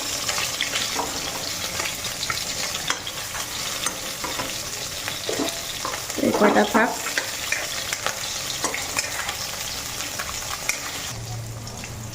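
Fish frying in oil in a home kitchen, a continuous close sizzle with stirring clatter and a louder burst of spattering midway, under brief speech.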